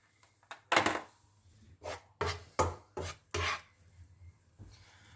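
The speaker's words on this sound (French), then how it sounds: "Et je viens verser mes lardons dans ma poêle." Lardons go into a frying pan for a minestrone, making a series of close, distinct scraping and rasping bursts of varied length against a quiet background, with no speech.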